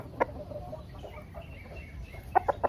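A Maclean Hatch gamecock rooster with a straight comb gives a few short, soft clucks, one early and a quick cluster of three at the end, fairly close over quiet background noise.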